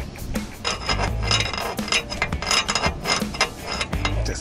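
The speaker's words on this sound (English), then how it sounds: "we're just gonna tighten it as much as we can with our 3/8 ratchet" A 3/8-inch ratchet tightens a drain or fill plug on the power transfer unit of a 2009 Lincoln, giving a steady run of close, dense clicking and rasping strokes for several seconds with no talking.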